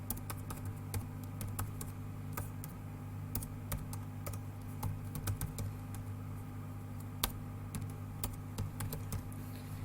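Steady keystrokes on a computer keyboard as a name is typed in, a run of close, crisp clicks and taps over a constant low electrical hum, with no voices.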